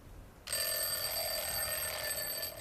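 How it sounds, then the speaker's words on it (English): A ringing alarm clock bursts on after a quiet moment, its bright metallic bell ringing continuously and loudly to the end, with a slight pitch sweep like a moving source. "As the ringing moves towards you, it sounds higher pitched. As the ringing moves away, it sounds lower pitched."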